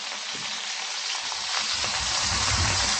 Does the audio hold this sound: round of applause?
no